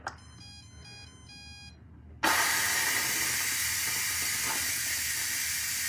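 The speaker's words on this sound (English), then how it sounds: "I appreciate that the steam release button on this is far away from the actual steam release" An electric pressure cooker plays a short beeping tune, then its steam release valve opens with a sudden loud, continuous hiss that carries on steadily to the end.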